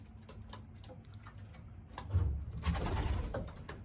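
Male pigeons coo in low, repeated throaty bursts, growing louder toward the end over a soft bed of ticking and rustling in a loft.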